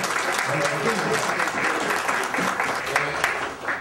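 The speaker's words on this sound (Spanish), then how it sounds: "un aplauso de agradecimiento al ingeniero" An audience applauds an engineer at a geological week ceremony, steady dense clapping filling the room for several seconds at even loudness, with some voices mixed in beneath it.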